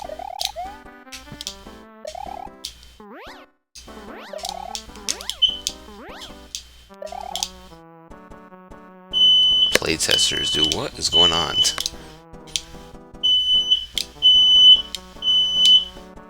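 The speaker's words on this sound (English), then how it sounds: "Got my alarm going off in the back." An alarm in a house goes off in the background with repeated beeping chirps, while someone talks over it and game sounds play.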